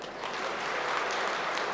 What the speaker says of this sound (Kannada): ಅದಕ್ಕೊಂದು ಚಪ್ಪಾಳೆ ಹೊಡೀರಿ.